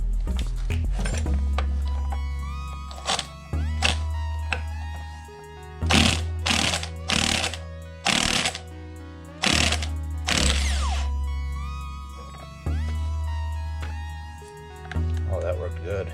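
A Milwaukee 18-volt half-inch impact driver with a heavy-duty 9.0 battery hammers at a bolt on a stator replacement job, letting out a string of loud, rattling bursts of one to two seconds each, with a voice talking between them.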